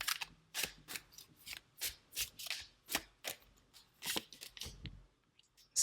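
Tarot cards are shuffled and drawn by hand, heard as a close series of about a dozen crisp papery riffles and slaps in an uneven rhythm, quiet and alone with no voice.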